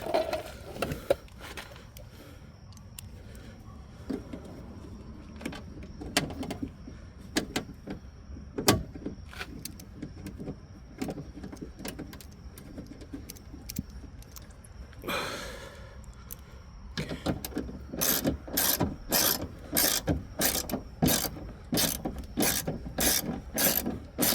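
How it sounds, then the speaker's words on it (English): Bolts being tightened on the window channel of a 2019-2025 Toyota RAV4 door, heard as close ratcheting and mechanical clicks with rubbing and scraping, ending in a fast run of rhythmic ratchet clicks. "So I'm going to tighten these bolts up first, and it'll adjust itself."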